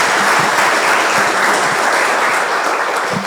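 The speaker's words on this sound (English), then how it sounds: "We can clap for him for that good session." An audience at a financial talk session claps loudly and steadily for the speaker, a dense close burst of applause filling the full three seconds.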